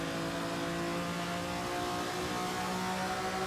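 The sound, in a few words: Ferrari 250 Testa Rossa engine in Assetto Corsa video game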